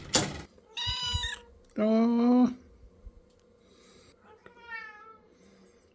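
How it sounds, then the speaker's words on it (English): A ginger cat meows up close, with one short meow and then a longer, louder one, followed by fainter meows. A person speaks briefly at the start. "Oh, you got a cute meow on you."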